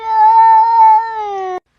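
A cat gives one long, drawn-out meow, loud and close, lasting about a second and a half before cutting off abruptly, with no talk over it.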